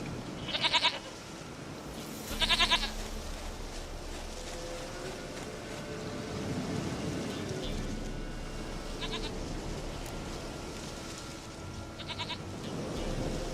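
A goat bleats in a wilderness area of a fantasy role-playing game, with several short, sharp bleats sounding close and loud between stretches of a voice speaking.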